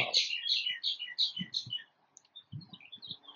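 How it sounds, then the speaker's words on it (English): Small birds chirp and twitter outdoors in quick clustered bursts, fairly close, with a pause midway, while soft low thumps and rustles sound underneath. "Noticing the sound of the birds."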